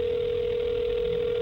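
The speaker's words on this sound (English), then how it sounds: "It started with a few phone calls, first to Mary Mayhew herself." A telephone dial tone sounds as a phone call is placed, one steady unbroken hum held at even loudness with nothing else over it.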